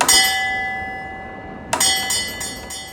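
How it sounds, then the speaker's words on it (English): A signal box bell rings out a bell code, two bright metallic strikes about a second and a half apart, each leaving a ringing tone that fades away in a quiet setting. "Rosie and her driver heard a bell code."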